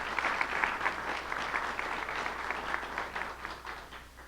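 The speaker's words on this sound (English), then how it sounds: "can I have a round of applause for that?" An audience at a lecture gives a round of applause for students, producing steady, moderately loud clapping that holds evenly for several seconds over a low background hum.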